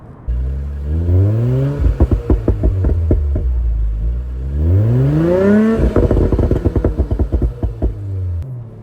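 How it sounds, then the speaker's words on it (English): A 2019 Audi S5's deep engine rumble rises and falls with revs, broken by rapid crackling pops and burbles from the exhaust, loud and close, no speech. "You can hear that exhaust note behind me, which includes some pops and burbles, as you can hear now."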